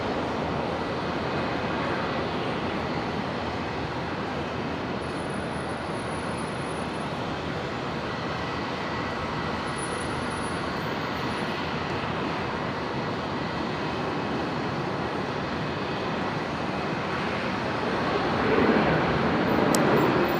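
Jet airliner taking off at Brisbane International Airport, a broad steady roar held for about twenty seconds, swelling slightly near the end, with no talking.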